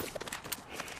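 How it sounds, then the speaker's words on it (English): Quick footsteps in a video game, a short run of soft, close clip-clopping steps in an uneven rhythm over a busy background. "Oh, there's footsteps here."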